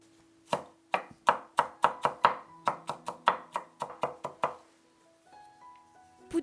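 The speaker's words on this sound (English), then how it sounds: "For this, chop 3 cloves of garlic." Three garlic cloves chopped with a knife on a cutting board, about fifteen quick, sharp knocks in an uneven rhythm, close and clear, then a brief quieter clatter.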